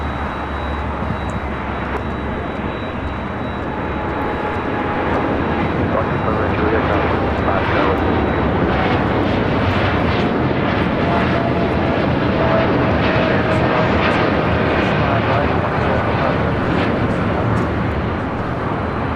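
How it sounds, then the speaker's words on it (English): A United Boeing Dreamliner jet takes off from runway 25 right at LAX, its engine roar loud and sustained, building and holding steady throughout, with people talking over it. "United Dreamliner now rolling down at 25 right"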